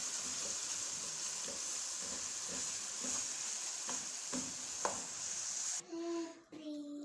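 Potato samosa filling stirred in a hot pan, a steady close sizzle broken by a regular rhythm of spoon scrapes, ending with faint clatter after the sizzling drops away.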